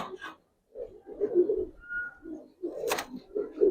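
Pigeons in a loft coo in short, close, soft bursts separated by brief pauses, with a faint whistle-like tone and a brief sharp noise partway through, no voices.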